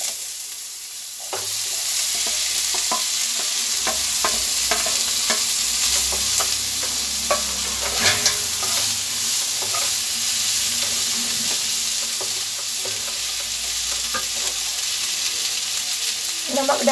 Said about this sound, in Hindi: सॉटे करेंगे इसको। अब हम इसमें आलू और मटर ऐड करेंगे